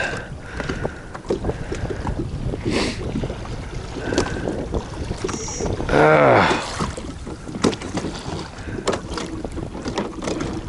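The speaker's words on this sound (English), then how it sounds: "it's nice having that wind blowing into my back versus having a spot lock and having it blowing into my face" Steady wind rushes across a fishing boat on open water in cold weather, a constant roar of buffeting gusts with a louder swell midway and faint knocks of the boat.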